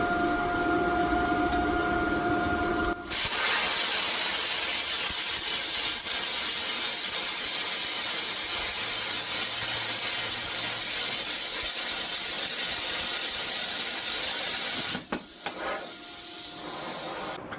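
An Arctaylor Cut55P plasma cutter slices through 3/8-inch aluminum, a loud, steady roaring hiss that starts abruptly and runs about twelve seconds before cutting off, with lower machine hum before and after.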